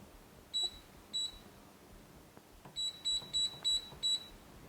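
An air fryer's control panel beeps as it is set to 400 degrees and started. Sharp electronic beeps come as two spaced tones, a short pause, then a quick run of five, all over faint room noise.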